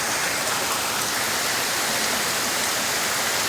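A river rushes during a storm, a steady, loud, unbroken roar of moving water with no voices.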